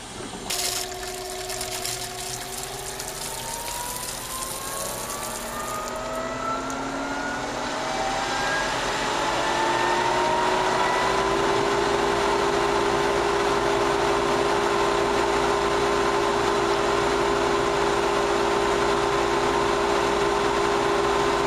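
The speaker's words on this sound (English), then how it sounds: "Turn the filter pump back on." A pool sand filter pump motor starts up, its whine rising in pitch as it spins up over several seconds, then holds a loud, steady hum with rushing water.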